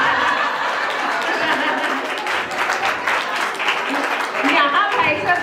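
A crowd applauding at a cultural program in a Digambar Jain temple in Rohini, Delhi, with steady, fairly loud clapping throughout while someone talks over it and some people laugh.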